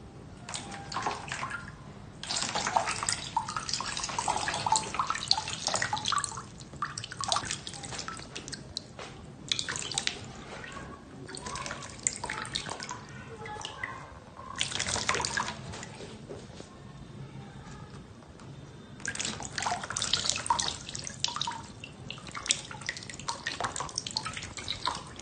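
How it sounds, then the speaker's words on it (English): Water poured from a bottle into a small model house in a school floating-house project, several separate bursts of splashing, trickling liquid separated by quieter dripping pauses, fairly faint and close. "we take this bottle and pour it in here"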